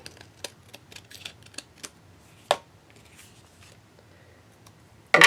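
A card panel is cut with a series of short, close snips and clicks, one sharper cut midway, then quiet handling and a loud knock at the end.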